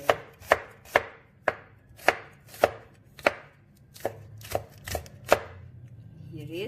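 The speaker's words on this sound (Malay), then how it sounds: "Kita boleh buat kita punya bawang merah pula. Bawang ni pun kita hiris dia." A knife slices and chops shallots on a cutting board, about a dozen crisp, evenly spaced taps close by, with no talking over them.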